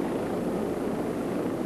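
A helicopter working low near high-voltage power lines during maintenance in South Africa, its steady rotor and engine roar loud and continuous without a break.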